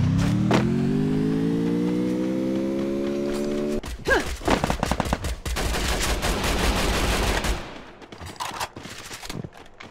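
A car pulls away in the Free Fire battle royale game, its engine note climbing steadily for about four seconds before dense gunfire bursts take over, then fades as the shooting thins.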